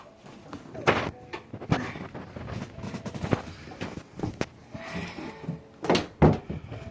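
A door is shut indoors among a run of knocks, bumps and clattering thuds, with one or two sharper slam-like hits standing out over soft background noise.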